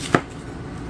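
One crisp knife chop through an onion on a cutting board while slicing thin rings, a single close tap with a quiet background afterward.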